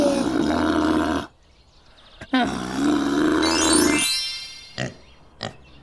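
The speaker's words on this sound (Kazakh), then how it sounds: "Түйе." A camel gives a long, deep, groaning bellow, then, after a pause, a rising roar-like call and a couple of short grunts, close and loud.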